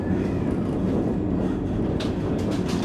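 The Vande Bharat Express runs between Bengaluru and Ernakulam, heard from inside an AC chair car. It gives a continuous loud rumble of wheels and carriage noise with faint clacking. Brief hissy bursts come near the end, and no one speaks.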